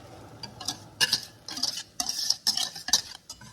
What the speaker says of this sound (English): Then we're gonna stir until it gets thick.